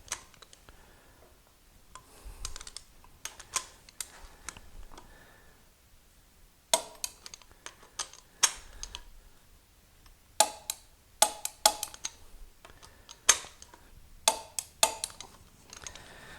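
A torque wrench tightens bolts on an Olds 455 engine during an engine build, giving sharp, irregular clicks and ratcheting ticks in short clusters against a quiet background.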